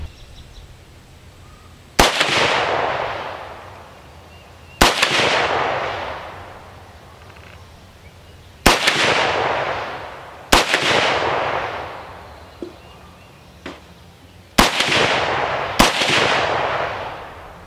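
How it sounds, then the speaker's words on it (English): A CMMG Resolute 200 7.62x39 rifle fires six single shots outdoors at bottles, each a loud sharp crack with a long rolling echo and a few seconds between shots. "why don't we move up a little bit closer and shoot some bottles"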